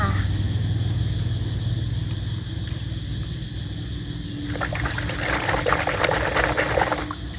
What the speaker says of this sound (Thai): ใส่น้ำประมาณนี้ค่ะ